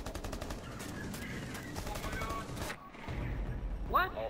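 Fast bursts of gunfire rattle through Rainbow Six Siege ranked gameplay, sharp repeated shots that cut off abruptly, with a voice briefly heard near the end.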